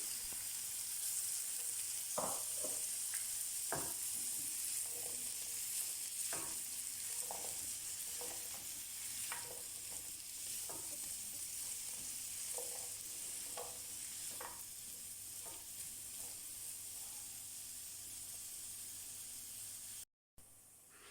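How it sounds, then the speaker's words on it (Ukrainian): Steady sizzling of carrots and onions frying in a pan, with occasional stirring scrapes and clicks throughout, close and continuous. "Обжарюємо приблизно 10 хвилин до м'якості."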